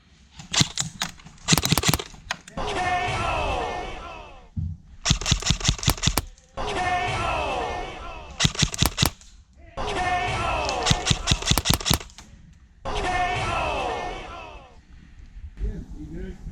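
Airsoft rifle, a Lancer Tactical Gen 2 LT-29 Enforcer, firing in several short rapid bursts of sharp clicking shots, alternating with stretches of noisy rustling between volleys.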